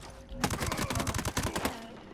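Rapid gunfire in the tactical shooter video game Ghost Recon Breakpoint, a quick rattling string of shots over roughly a second and a half, moderately loud and without talk.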